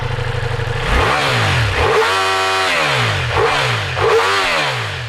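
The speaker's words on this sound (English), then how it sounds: "I'll show you again how the Multistrada V4 S sounds like with the Akrapovic exhaust" Ducati Multistrada V4 S motorcycle with an Akrapovic exhaust revs hard and close, several rising and falling throttle blips over a rumbling idle, loud and alone.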